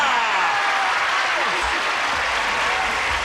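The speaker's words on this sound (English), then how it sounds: "asking these lovely people to give our stars a big round of applause" A studio audience bursts into a big round of applause, a steady wash of clapping that holds for a few seconds, with some voices mixed in.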